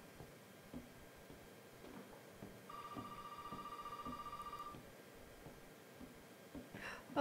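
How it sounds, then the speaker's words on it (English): A telephone rings in the Resident Evil 7 video game, one steady ringing tone lasting about two seconds over dim, quiet ambience with faint footsteps and movement. "Where is that phone coming from?"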